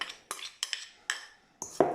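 A spoon scrapes and clinks in a bowl while melted butter is mixed into crushed speculoos biscuits, about six quick, evenly spaced strokes, close and crisp.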